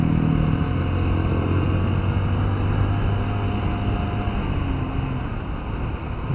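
A 2013 Yamaha Byson 150cc motorcycle engine drones steadily on a test ride, with a constant rumbling tone and wind noise throughout and no talking.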